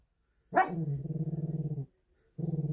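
A dog lets out a sharp yelp, then a long stuttering growl-bark, pauses, and starts another rapid pulsing bark. It sounds close and moderately loud indoors.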